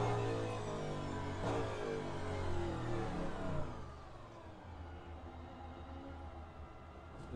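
A Cadillac race car in a racing video game at Fuji circuit: the engine revs loud and close, climbing in pitch for a few seconds before dropping to a lower, quieter drone.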